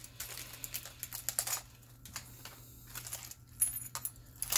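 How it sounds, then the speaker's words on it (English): Keys jangling and scraping as they are dragged along taped cardboard on a trading card box, a run of close, bright metallic clinks and rattles in uneven bursts with no talking. "Let me grab my keys instead."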